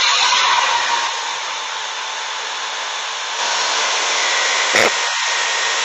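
A new lathe runs steadily, giving a continuous broadband whirr like a motor spinning a workpiece, with a slight shift in tone partway through and a brief click near the end; no one speaks.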